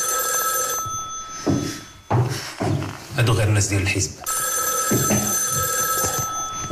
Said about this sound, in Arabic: شوف على التليفون.